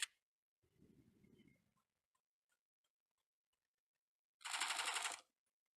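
Burst of rapid automatic gunfire from the mobile shooter Bullet Force, a loud dense rattle lasting under a second near the end, with a quieter low rumble earlier and a brief click at the start.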